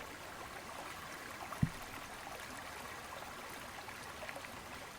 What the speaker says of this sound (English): just enjoy this little bubbling brook